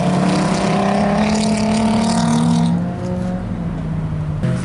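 Volkswagen R32 driving on an autocross course at Lime Rock Park, a steady, loud engine drone with sustained harmonic tones that eases slightly toward the end, heard alone without talk.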